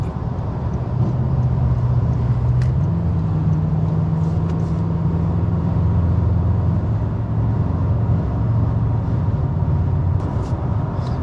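Steady low road roar from a 2024 Toyota Tacoma TRD Off-Road pickup on all-terrain tires cruising the highway, with continuous tire and wind noise at an even level throughout and no talking.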